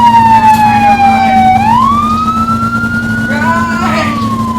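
Police truck siren wailing loud and close during a chase, a single long sweeping tone that dips and rises again over a steady engine drone.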